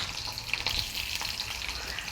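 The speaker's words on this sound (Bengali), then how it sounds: "তেল গরম হয়ে গেছে। এবার আমি 1খানা ছোট পেঁয়াজ কুচিয়ে রেখেছি," Finely chopped small onion hitting hot oil in a pan for chilli soyabean, giving a dense, continuous close-up sizzle with faint crackles throughout, no voices.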